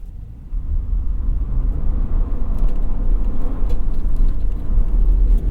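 Loud rumbling 2.7 EcoBoost engine of a rear-wheel-drive 2024 Ford F-150 STX with traction control off, a rising roar and gritty, scrabbling texture of tires spinning on loose ground, close by.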